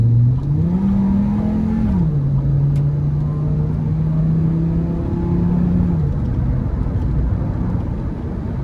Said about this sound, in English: Let's floor it here.